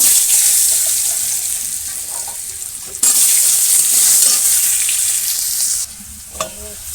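Potatoes and cumin frying in hot oil in a pan, a loud continuous close sizzle with occasional stirring and brief changes in intensity, no one speaking.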